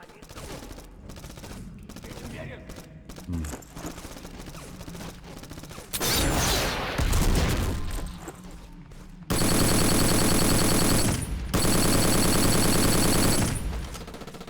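Gunfire in a video game set in a gulag, with scattered shots early on, then dense, loud bursts of rapid automatic fire that come and go across the clip.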